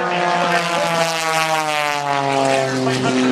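Aerobatic propeller airplane performing at the Wings Over Waukesha air show, a loud sustained engine drone with steady harmonic tone and slight pitch shifts as it maneuvers, close and continuous.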